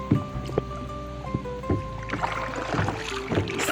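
Paddle strokes from a fishing kayak on windy water, soft splashes and dips recurring every second or so, close and moderately quiet over a steady background of wind and lapping water.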